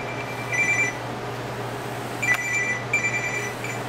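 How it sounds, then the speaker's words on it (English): A phone rings with a repeated electronic trill, set off as a temperature alarm call from a BBQ Pit Sitter monitor when the smoker drops below 190 degrees. Two or three short ring bursts sound over a steady low hum. "shortly we should be getting a phone call from our Pit Sitter"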